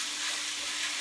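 Chicken pieces for lemon chicken fry in a pan with a dense, even sizzle that stays loud and steady throughout, without pauses.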